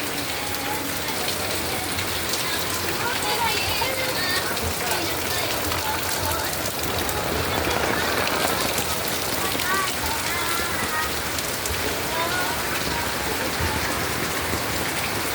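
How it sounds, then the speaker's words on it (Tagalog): Heavy rain pours during Typhoon Kristine, a dense, loud, continuous roar of drops on surfaces that holds steady throughout, with a person talking faintly beneath it at times. "nakita mo na ang lakas ng ulan"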